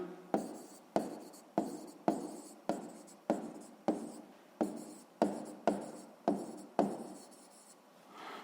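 A pen writes out an answer to a sixth-grade maths exercise in about a dozen quick, evenly spaced scratching strokes, close and clear, with no talking.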